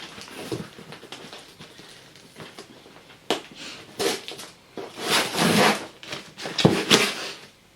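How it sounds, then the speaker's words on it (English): Crochet yarn parcel being opened with a pencil in place of scissors, giving irregular rustling, tearing and crinkling bursts of packaging, louder toward the end, with no talk. "The sound of happy unpacking."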